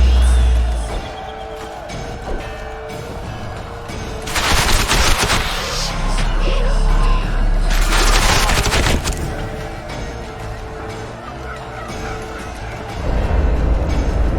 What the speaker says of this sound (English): Take cover! They're shooting!